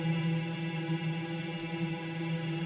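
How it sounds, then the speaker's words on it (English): A guitar note held by a reverb freeze effect rings on as a steady, dense sustained drone with no dry attack, even and unbroken throughout. "So now when I play, we hear only the reverb, not the dry signal."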